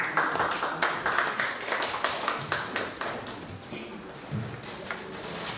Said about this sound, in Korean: 뜨거운 박수로 청해 듣겠습니다